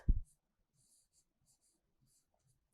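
Pen scratching on paper while an answer is written out by hand in a science lesson, faint, intermittent light strokes after a brief low thump at the start, with no talk.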